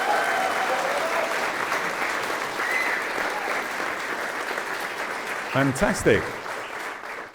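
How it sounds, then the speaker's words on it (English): A live podcast audience in a large, beautiful room gives a sustained round of applause, steady and moderately distant, and a voice speaks briefly over it near the end. "So give us a round of applause to show us that you're here."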